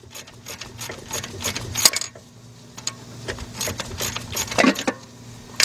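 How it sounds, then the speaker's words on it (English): A starter motor drops loose during removal from a Hyundai Accent or Kia Rio, giving a few sharp metallic clanks and rattles against the engine bay amid quieter tool clicks. "You heard that starter drop?"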